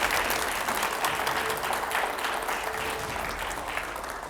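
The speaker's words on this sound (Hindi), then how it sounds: "जरा जोरदार तालियां हो जाएं।" A studio audience at a televised debate show breaks into loud sustained applause, dense clapping from a crowd filling the whole stretch without speech.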